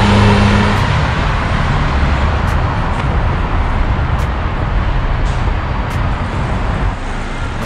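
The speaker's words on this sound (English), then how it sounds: "doing a brake test" A 2017 Honda Accord driven on a brake test after new front brakes, heard from inside as a loud, steady road and engine rumble with tire noise throughout.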